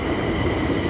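Class 380 electric multiple unit arriving at Paisley Gilmour Street station, terminating from Glasgow Central: a loud, steady rumble of the train close by, with no voices.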